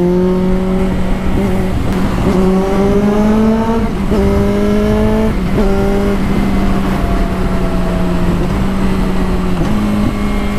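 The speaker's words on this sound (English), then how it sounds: "When I get on the throttle, it's like bam, bam, shift gears" Suzuki GSX650F motorcycle pulling hard through several gear shifts, engine note climbing in steady rising sweeps, each upshift marked by a sharp exhaust pop or crack, loud and close with constant wind rush and no talk.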